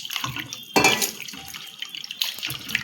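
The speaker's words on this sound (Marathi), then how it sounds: "म्हणजे स्वच्छ धुतलं जातं हे मिठाच्या पाण्यामध्ये." Raw chicken is washed in salt water in a kitchen sink, with short bursts of splashing and sloshing water, a few drips and pauses between movements.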